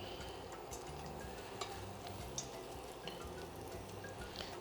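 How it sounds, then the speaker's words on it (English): Smoked fish accra batter balls fry in hot oil, a steady close crackle and bubble with a few brief sharper pops, no voices. "Take your time, fry this. You're aiming for a crispy, golden brown ball of goodness."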